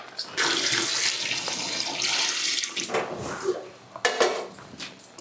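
Hot water is poured into a bowl, a steady close splashing stream that runs for several seconds, then breaks into a few shorter gushes and clinks of the vessel.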